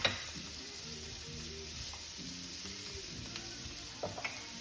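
Vegetables for beef fajitas, seasoned with salt and pepper, sizzle steadily in a hot pan with occasional stirring scrapes, a close, even frying hiss with no talking.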